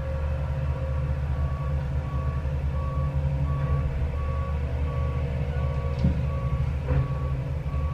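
Road work machinery rumbles steadily nearby under a heavy engine drone, while a vehicle's reversing alarm beeps in a regular evenly spaced pattern throughout, with a couple of faint knocks near the end.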